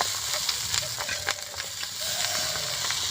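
Egg chowmein tossed in a hot pan gives a steady, moderately close sizzle with soft hiss and scattered light clinks and scrapes of stirring, no talking over it.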